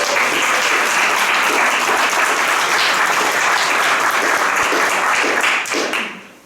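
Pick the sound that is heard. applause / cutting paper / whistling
applause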